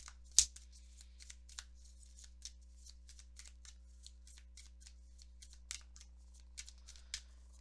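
Oracle cards being shuffled by hand, a steady run of soft papery riffles and flicks close by over a low hum, with one sharper snap near the start.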